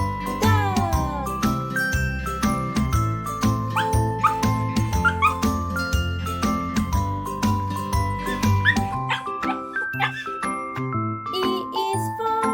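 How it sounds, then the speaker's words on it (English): A dog barks and whimpers amid chiming, tinkling music in a children's alphabet learning song, the yips popping up repeatedly before the music thins out near the end. "D is for dog."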